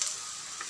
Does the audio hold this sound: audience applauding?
no